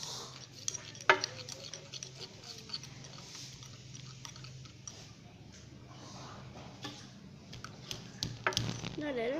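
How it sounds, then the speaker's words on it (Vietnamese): Homemade slime being stirred in a bowl until it sets, with soft sticky squelches and scattered clicks throughout and a few sharper taps near the start and end. "Mình sẽ khuấy đến chừng nào nó đông hết lại thì thôi."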